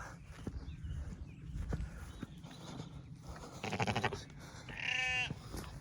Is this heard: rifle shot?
no